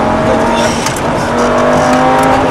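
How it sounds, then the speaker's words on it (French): Lamborghini Gallardo accelerating hard on the Montlhéry circuit, a loud, steady engine drone with rising harmonic tones held throughout, heard close from onboard. "Reprise des gaz progressive. Et réaccélération."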